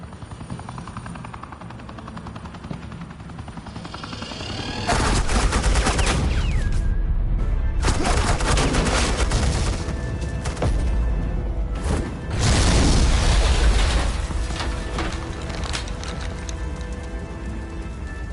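Dense bursts of suppressing machine gun fire in a Batman film erupt over a droning helicopter. The rapid, loud fusillade runs continuously for many seconds with a short lull before it swells again.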